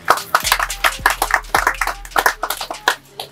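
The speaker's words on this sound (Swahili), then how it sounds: "Karibu, makofi." A small crowd at an office launch ceremony gives a short burst of welcoming applause, several hands clapping quickly and irregularly for about three seconds, loud and close.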